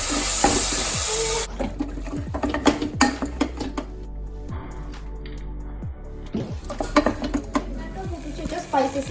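Tomatoes tumble into a hot frying pan for beef curry, a loud burst of sizzle at the start giving way to repeated scraping and stirring clatter of a utensil against the pan.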